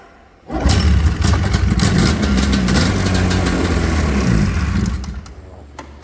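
An old snowmobile engine, left in a barn for years, sputters to life on a pull start and runs loudly with an uneven, rattling idle, close by, then eases slightly toward the end.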